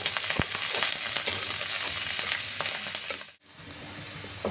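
Chopped green chillies and garlic frying in hot oil in a pan, a loud steady close sizzle with a brief drop near the end.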